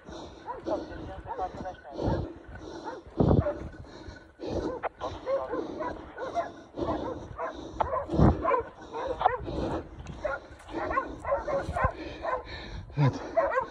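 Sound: hunting dogs barking

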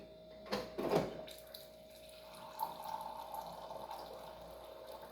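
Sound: hot water poured into a glass

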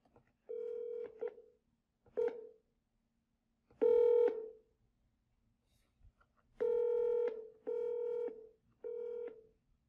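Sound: ringtone of Grandstream GXP2135 IP phone during volume adjustment

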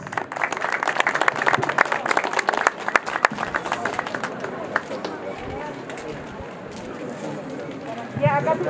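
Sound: audience applause

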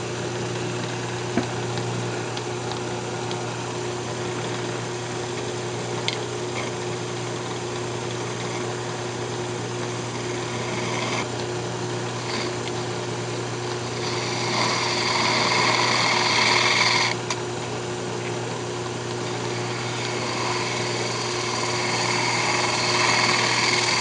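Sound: wood lathe turning a lidded box bottom

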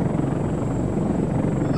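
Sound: helicopter flying in video game Arma 3

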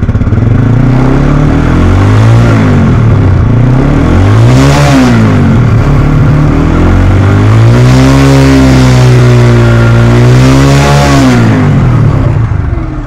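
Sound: TVS Apache RTR motorcycle engine running and revving

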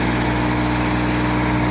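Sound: tractor engine running, driving paddy thresher via PTO

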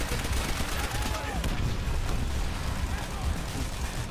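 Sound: grenade explosions and gunfire in World at War video game

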